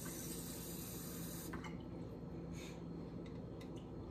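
Tap water running steadily while preparing breakfast in a home kitchen, a constant hissing splash at low volume that continues uninterrupted throughout.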